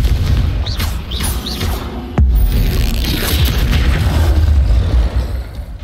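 Hogwarts Legacy battle in which a Confringo spell bursts as a loud, deep boom, followed by a rumbling crash and debris, with whooshing spell effects just before it.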